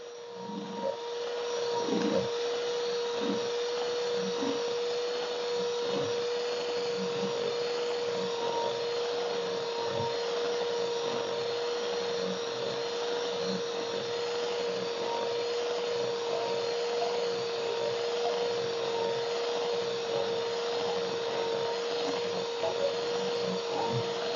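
Electric mixer beating eggs for cake batter, a steady loud whirring drone with a constant pitch that runs unbroken for the whole stretch, with light rattling of the beaters in the bowl.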